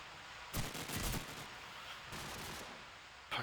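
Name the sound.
Desert Eagle gunfire in a video game match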